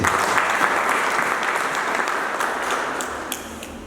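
A church congregation applauds warmly during a sermon, a full, continuous roar of many hands clapping that holds steady and eases slightly toward the end.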